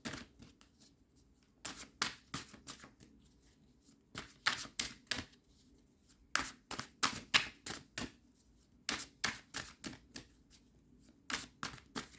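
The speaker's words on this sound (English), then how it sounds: "Let me pull an extra card for this Two of Pentacles." Tarot cards are drawn from a deck, making quiet, close bursts of crisp riffling and flicking, several rapid clusters separated by short silences.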